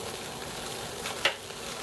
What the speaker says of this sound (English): Let's give him a good sear on all sides.